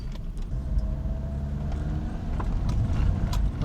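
A car engine droning steadily in a low gear on a rough mountain road, close and continuous, with faint knocks and rattles over the rumble.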